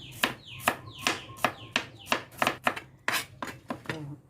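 A knife slices mint and shallots on a cutting board in about ten crisp, evenly spaced chops, close and distinct with no talking.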